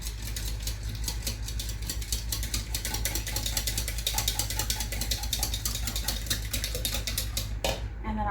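Apple oatmeal cookie batter with honey is stirred in a bowl, giving a continuous close clicking and scraping rattle under a steady low hum.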